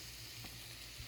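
Beef and onions dry fry in a pan with a quiet, steady sizzle, broken by one or two faint stirring clicks.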